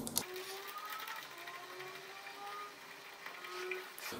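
Screws of a Givi universal phone holder mount being tightened, heard as a faint, continuous mechanical ratcheting whir with small clicks, close and alone.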